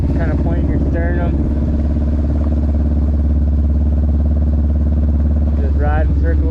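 A motorcycle engine is held at steady throttle while riding slow circles around an empty parking area. It makes a loud, constant drone up close, with a rider's voice talking over it at the start and the end.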